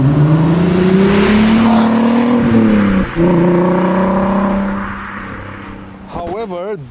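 VW Golf R32 Mk5 engine running, a loud, smooth drone whose pitch rises and shifts, with a brief dip before fading toward the end as a voice begins speaking.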